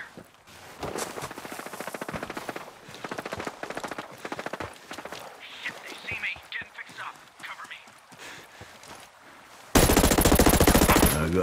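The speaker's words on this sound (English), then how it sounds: "I hear gunfire." Rapid bursts of automatic gunfire in the video game Ghost Recon Breakpoint crackle in the distance with a soft whisper over it, then a loud, dense wall of noise cuts in near the end.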